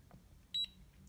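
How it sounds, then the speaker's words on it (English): A single short electronic beep from a ScanLogic keypad lock, sharp and high-pitched, standing alone against a quiet room background. "We get that beep."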